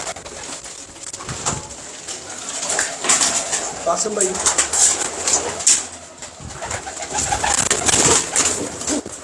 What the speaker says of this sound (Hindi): सर ये कमाल कबूतर है।